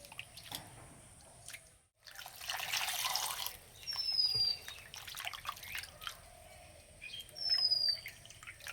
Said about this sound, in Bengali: এবার 2 থেকে 3 বার জল পাল্টে পরিষ্কার করে ধুয়ে নেব।